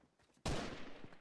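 A single sharp gunshot from the video game Fortnite cracks out abruptly and rings off in a decaying tail, loud against a quiet background with no talk.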